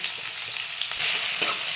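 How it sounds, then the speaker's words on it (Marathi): Chopped onions frying in oil in a pan for Indian-style egg masala, a steady continuous sizzle with light stirring scrapes throughout, close and alone with no talk. "आता मस्त कांद्याला परतून घ्यायचं आहे आपल्याला"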